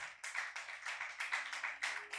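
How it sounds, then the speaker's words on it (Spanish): A church congregation claps at a worship service, the sound faint and somewhat distant, with repeated clapping bursts in an uneven rhythm and no voices over it. "Dale un fuerte aplauso al Espíritu Santo"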